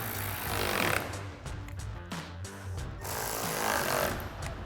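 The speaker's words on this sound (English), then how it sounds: "All right, then we can tighten our 4 bolts at the front." A power tool tightens bolts on the soft top of a 2021-2024 Ford Bronco, giving loud, close rattling bursts that stop and start several times.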